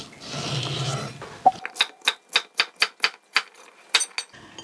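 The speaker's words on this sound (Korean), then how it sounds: "한 입 크기로 썰게." A knife cuts radish into bite-size pieces on a board: about nine crisp, evenly spaced chops follow a softer, muffled start, close and clear.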